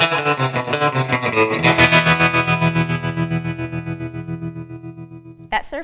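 Electric guitar played through a Fender Mustang GT amp on a surf preset with vintage tremolo, chords pulsing in a fast even wobble, ringing and slowly fading, then a brief loud strum at the end, no talking.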